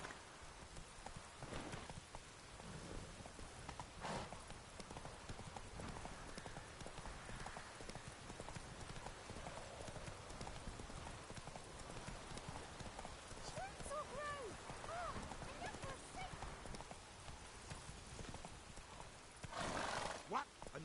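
Roach, Geralt's horse in The Witcher 3: Wild Hunt, runs with steady clip-clop hoofbeats throughout and a whinny near the end, while rain patters and voices talk intermittently over the movement.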